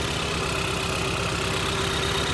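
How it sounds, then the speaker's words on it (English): Car engine idling roughly with a misfire after head gasket sealer was added, a steady close mechanical rumble with an uneven pulsing beat and a faint whine. "There's a misfire."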